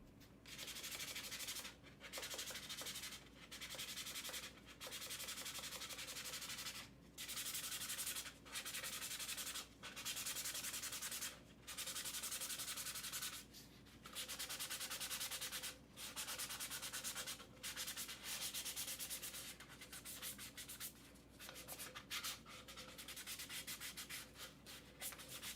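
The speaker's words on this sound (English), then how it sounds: "I'm prepping the Starbucks cup with 400 grit sandpaper" Steady back-and-forth scratching of 400 grit sandpaper on a Starbucks plastic cold cup, close and fairly loud, in repeated strokes separated by brief pauses, with no talking.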